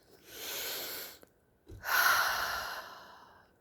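Two slow, deep breaths during outdoor meditation, a long airy inhale then a fuller exhale after a short pause, close and soft with no talking.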